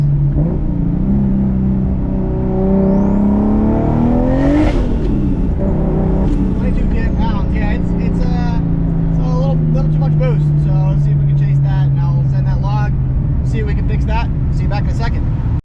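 A tuned 600whp Lexus IS300 pulls hard on a street run, its engine close and loud, climbing in pitch through a rev, dipping, then holding a long steady drone with a few sharp rattles on top.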